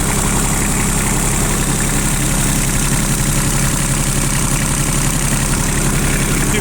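A Japanese mini excavator's engine idles at lowered revs, a continuous close, steady low rumble and hum with no variation or talk.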